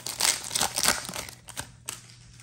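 Foil packs of 2023-24 Select basketball cards being torn open, a quick run of crinkling and ripping bursts that tapers into a few softer rustles, close and with no voices.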